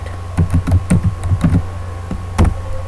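Typing a password on a computer keyboard in a Linux terminal: clusters of quick key taps in irregular bursts, close and fairly loud, with a brief pause before a final burst.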